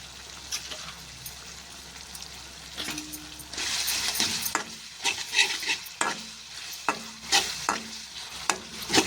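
Spicy masala for an egg burji fries in a pan while coriander is stirred in: quiet sizzle at first, then a run of rhythmic spoon scrapes and clinks, close by.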